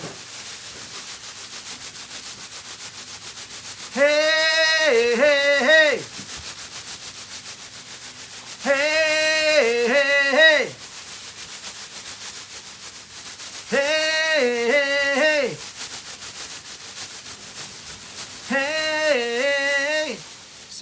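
A recyclable plastic supermarket shopping bag, held at both ends and rubbed together, gives four loud, tonal squealing bursts of about two seconds each, spaced several seconds apart, with a voice calling out between them.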